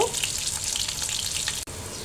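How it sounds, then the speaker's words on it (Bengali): Fish sizzle in hot oil in a home kitchen, a soft, steady crackle and hiss that carries on without pause, with no talking. "মাছগুলো ভেজে নিচ্ছি"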